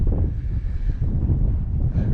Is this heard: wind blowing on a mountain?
yes